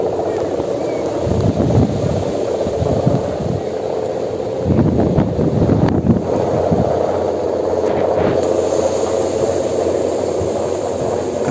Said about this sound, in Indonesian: Angin membabi buta.